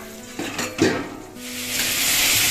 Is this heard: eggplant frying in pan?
yes